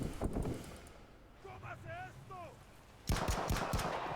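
Gunfire in the Narcos: Rise of the Cartels game, loud bursts of shots at the start and a heavy rapid burst near the end, with a quieter stretch between where a voice speaks.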